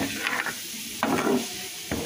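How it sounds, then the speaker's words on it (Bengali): Sliced onions frying in hot oil into crisp beresta, a soft steady sizzle punctuated by a few brief scrapes of a stirring utensil against the pan. "এই তো আমার বেরেস্তাগুলো ভাজা হয়ে গিয়েছে,"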